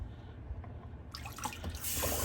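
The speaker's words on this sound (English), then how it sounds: "I seem to be losing some water here in my sink" Water trickles and gurgles down a bathroom sink drain past a stopper that is not fully closed, a soft close sound that grows louder toward the end, with no talking.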